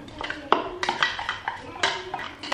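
Chopped onion and garlic drop into a pot with a series of clattering metallic knocks and scrapes, close and fairly loud, in irregular bursts.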